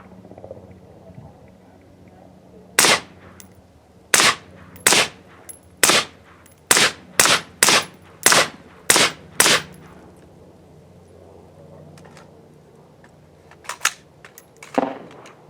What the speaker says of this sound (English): here comes some Aguila 62 grain 556 through the Surefire SOCOM suppressor with the MDR